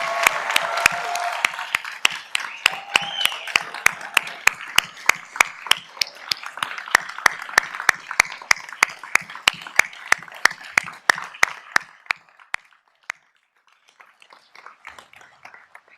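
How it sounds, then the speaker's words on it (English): An audience at a 2022 fall university convocation ceremony applauds the graduates, steady clapping from a large hall that carries on for about twelve seconds before dying away to a few stray claps. "If everybody could join me in a round of applause for our amazing graduates of 2022."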